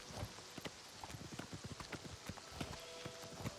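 Horse hooves clip-clop steadily in a video game, a brisk, even rhythm of close, distinct hoofbeats that carries on alone for several seconds.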